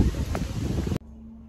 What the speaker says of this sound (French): Le vent, je pense que vous entendez beaucoup le vent.